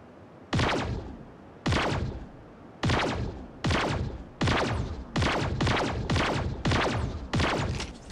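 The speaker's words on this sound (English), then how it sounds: "Charged cannon." A charged cannon fires repeatedly in Sausage Man, about ten heavy booming blasts at a fairly steady pace, each with a sharp crack and a decaying rumble.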